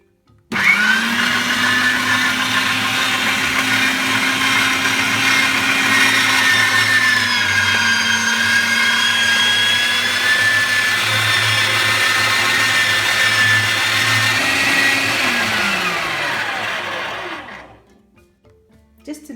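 A sausage machine minces strips of meat with a loud, steady motor whir and grinding hum that runs close and unbroken for about sixteen seconds before the machine winds down and stops.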